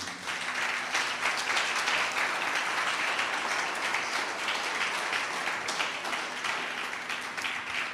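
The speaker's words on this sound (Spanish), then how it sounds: "Si lo creen, celébrenlo con una ofrenda de palmas al Señor." A church congregation claps in praise during a Spanish-language service, a dense continuous wash of hands filling the room, steady and fairly loud throughout.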